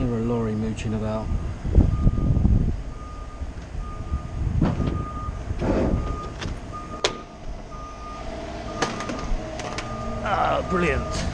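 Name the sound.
lorry reversing with beeping alarm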